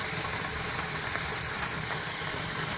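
A pressure canner venting steam while canning meatloaf, a steady loud hiss that continues unbroken throughout.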